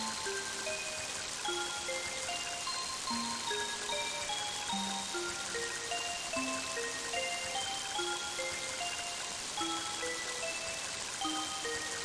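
Steady dense rainfall in the video game Mother 3, an even patter of raindrops on surfaces that runs throughout alongside a gentle chiming melody, with no talk.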